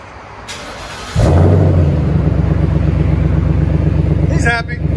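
Ford Mustang GT 5.0 Coyote V8 with a muffler delete, its deep exhaust rumble kicking in loud and close after a short lead-in, holding a steady idle burble, then a quick rev near the end, with people talking over it.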